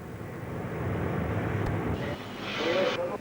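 A freight train of the 1990s Italian state railways creeping forward through a switch in a Trieste yard, a steady low rumble of wagons with a brief squeal near the end.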